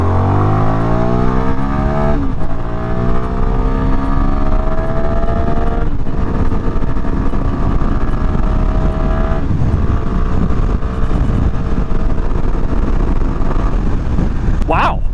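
Yamaha MT-10 motorcycle in sport mode accelerating through a turn, engine climbing in pitch through several gear shifts, loud and close with wind buffeting the microphone.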